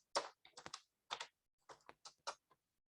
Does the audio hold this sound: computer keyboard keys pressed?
yes